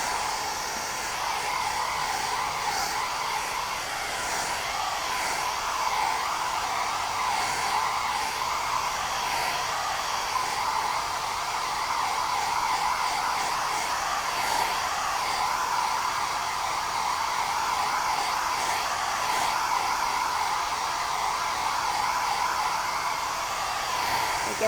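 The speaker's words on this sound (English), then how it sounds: "I'm going to have to use my hair dryer for about 2 minutes" A hair dryer drying paint blows continuously at close range, a steady whooshing whine that holds constant throughout with no talking.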